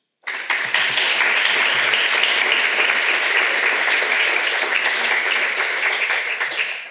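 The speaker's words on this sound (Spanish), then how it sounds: "quisiera pedir un aplauso primero para todas estas instituciones" Audience applause at a talk on women scientists in Bilbao starts abruptly and holds as a dense, loud, sustained roar of many hands before easing slightly at the end.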